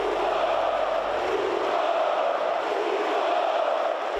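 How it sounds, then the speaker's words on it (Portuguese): A dense, roaring crowd of Flamengo football fans at Maracanã stadium jeers and chants at the goalkeeper, a loud, continuous wall of massed voices with no breaks. "a torcida do Flamengo já estava provocando muito o goleiro por causa da falha"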